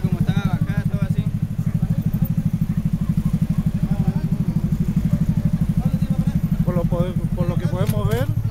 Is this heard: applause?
no